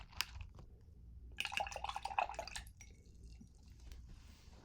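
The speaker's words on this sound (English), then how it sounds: "Wash my brush again." Acrylic paintbrush rinsed in a water cup: close, soft splashing and dripping swirls in two bursts, quiet and without talk.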